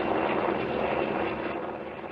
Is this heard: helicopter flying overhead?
yes